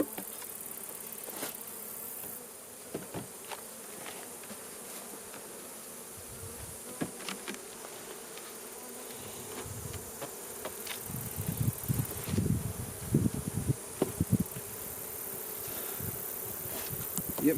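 Honey bees hum in a dense, steady drone close by at an opened hive during an inspection, with scattered light clicks and knocks of handling around the hive toward the end.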